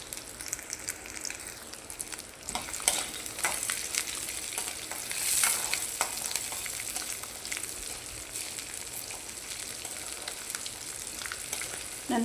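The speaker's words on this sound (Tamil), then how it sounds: "இதை எண்ணெயிலே வதக்கணுங்க" Urad dal and garlic frying in oil for garlic chutney, producing a steady close crackling sizzle with a few sharper pops and scrapes of stirring, rising briefly in the middle.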